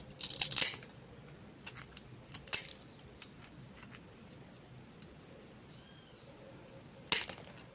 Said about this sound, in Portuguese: venho cortando toda a volta de onde eu fiz o desenho da folha